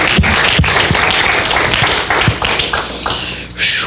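A church congregation claps along in a steady rhythm, the sharp hand claps repeating close together under a broad wash of room noise for several seconds.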